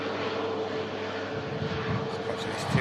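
An EgyptAir airliner taxiing toward the runway to line up, its engine a steady moderate drone heard from a distance with some background noise.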